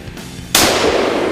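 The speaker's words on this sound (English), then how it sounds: "you shot him point blank charging" A single loud rifle shot fired at a charging bull moose during a hunt in Alberta. It bursts suddenly out of a quiet background at close range and rings on with a sustained, broad wash of sound.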